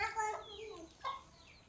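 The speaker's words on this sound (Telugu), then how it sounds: "కోళ్ళ మధ్యలోకి వెళ్ళు" Hens and chicks cluck close by on a buffalo dairy farm, with a few short rising calls and clucks scattered across a quiet background.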